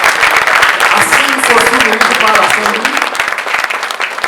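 A crowd at an awards ceremony honouring a municipal assembly claps steadily and loudly for several seconds as someone speaks over the applause.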